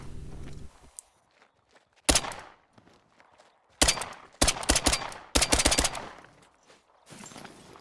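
Pistol shots in the hunting game theHunter: Call of the Wild, at Te Awaroa: several sharp, loud reports in irregular bursts, close and punchy, separated by quiet gaps.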